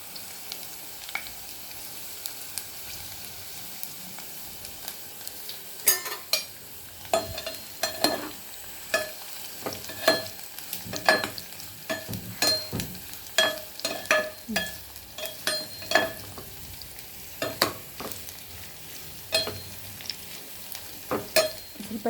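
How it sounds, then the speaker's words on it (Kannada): Bitter gourd frying in oil in a pan, a steady low sizzle broken by repeated sharp scrapes and knocks of a spatula stirring at close range, with no talking. "ಹಾಗಲಕಾಯಿ ಹಾಕ್ಕೊಂಡು ಫ್ರೈ ಮಾಡ್ಕೋಬೇಕು"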